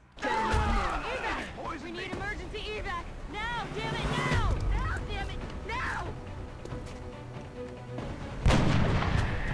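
Gunfire from the turn-based strategy game XCOM: heavy booming shots at the start, midway and a loud one near the end, mixed with creature shrieks and game effects, and a voice narrating over much of it.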